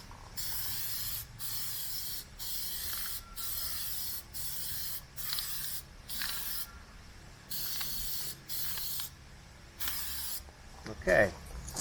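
Repeated bursts of aerosol spray laying a wet coat onto a car headlight, each hiss lasting under a second and separated by short gaps in an even rhythm, fairly close, with a small click near the end.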